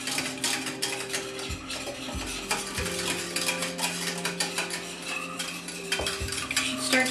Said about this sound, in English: Start whisking away.